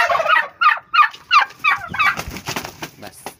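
A young white male turkey gobbles in a rapid series of loud, close, rattling bursts, with a little quieter fowl noise trailing after.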